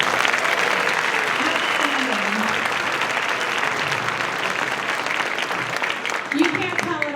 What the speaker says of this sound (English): Can we have one more round of applause for those 5th graders?